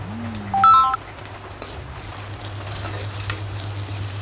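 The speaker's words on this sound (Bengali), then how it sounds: "আদা রসুন বাটাগুলো হালকা তেলে ভাজে নেব" A soft frying sizzle of ginger garlic paste in oil hisses under a low steady hum, with a short electronic beep tone near the start and a few faint clicks.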